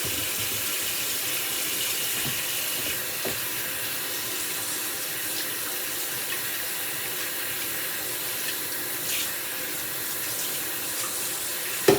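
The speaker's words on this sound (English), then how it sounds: "Now we're going to get some cold water on them." Cold tap water pours steadily over beef short ribs in a sink, a continuous close hiss and splash with no pauses and no voices.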